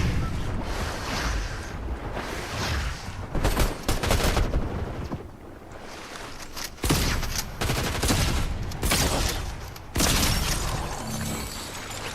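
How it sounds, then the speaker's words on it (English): Rapid bursts of shotgun gunfire in the video game Fortnite, with loud clustered blasts and short pauses between volleys, running over a constant game soundscape, with no talking. "Yeah, shotguns. I can't get enough of them."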